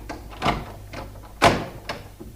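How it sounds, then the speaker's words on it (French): A door is shut and locked with a key: two solid knocks about a second apart with lighter rattling clicks around them, close and fairly loud in a quiet room. "Mick, referme la porte à clé."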